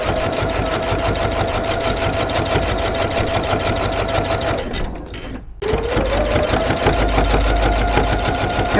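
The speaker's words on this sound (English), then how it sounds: "I'm going to stitch as close as possible as I can all the way to the bottom" A sewing machine stitches close along the folded edges of a reversible bag, running in a steady, fast whir that pauses briefly and then resumes at full speed.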